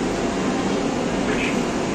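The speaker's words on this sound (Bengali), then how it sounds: "আর এক্ষুনি ট্রেন কিন্তু ছেড়ে দেবে।" Steady broadband rumble and hum inside a Vande Bharat Express train standing at Kharagpur Junction, constant and fairly loud throughout with no distinct events.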